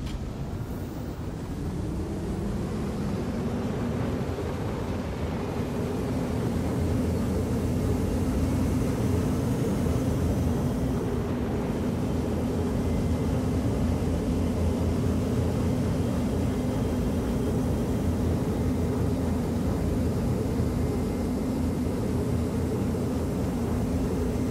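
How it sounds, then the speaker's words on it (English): Low, steady spaceship engine drone in a video game, a dense rumble running continuously and loudly throughout with no talk over it. "Engines are on."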